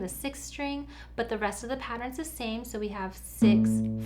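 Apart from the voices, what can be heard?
No everyday noise stands out behind the speech.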